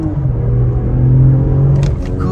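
A 2024 BMW X6 xDrive40i pulls hard in second gear on a highway, a loud, close, steady engine drone rising slightly in pitch, heard from inside the cabin with a brief wind burst near the end.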